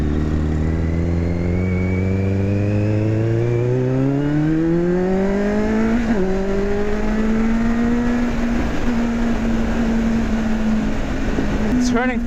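Kawasaki Z800 motorcycle ridden on the road, its engine note rising steadily through the gears as it accelerates, with a continuous mid-pitched drone and wind noise throughout; a brief sharp chirp near the end.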